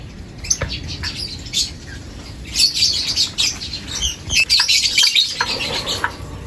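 Lovebirds in a breeding cage chirping: bursts of sharp, high, close-up tweets and squeaks in busy clusters, with light fluttering and rustling behind, no talking.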